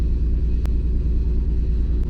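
A Mitsubishi 3000GT engine running, a deep, steady low rumble held close and loud throughout, with a couple of faint clicks over the top.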